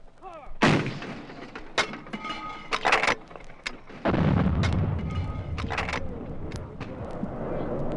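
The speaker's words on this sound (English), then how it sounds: "when artillery arrives, when it drops down Charlie's throat, it's the most beautiful, ugly sound in the world." Artillery fire in Vietnam: a series of loud, sharp booms and blasts at irregular intervals, some close and heavy with rumbling tails, others more distant, with no talk over them.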